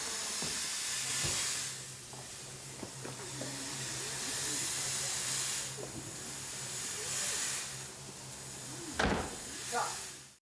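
A smoke machine on a film set hisses steadily as smoke builds between train carriages, a continuous broad hiss under occasional voices and small knocks, with a sharper burst of spray near the end.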